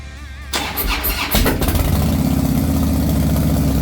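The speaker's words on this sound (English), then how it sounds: "sounds like a Harley. As you would expect, sounds really good. Fires right up. That's a cold start." A 2008 Harley-Davidson Street Bob motorcycle engine, cold and in neutral, cranks briefly, then fires up and settles into a loud, steady, throaty idle with a deep rumbling pulse.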